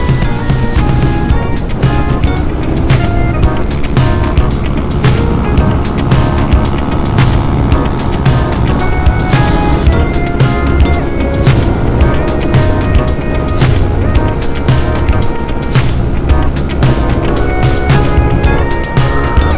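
Steady engine drone of a tired motorcycle on a ride through Albay, a continuous close, loud hum with wind rush and no letup throughout.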